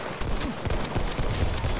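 Rapid rifle fire from a Mondragon semi-automatic rifle in the video game Battlefield 1, during a multiplayer match, as a dense, loud burst of shots overlapping with other gunfire and battle noise, with no pause.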